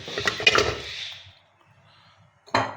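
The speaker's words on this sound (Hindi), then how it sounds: "सबसे पहले गोश्त को हम कढ़ाई में डालेंगे" Meat tipped into a metal kadhai for bhuna gosht, giving a burst of clattering, scraping metal for about a second, a quiet pause, then another short clatter.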